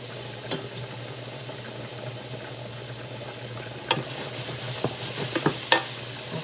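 Shrimp sizzling steadily in a hot pan, with scattered sharp scrapes and clinks of stirring that grow busier toward the end, no talking.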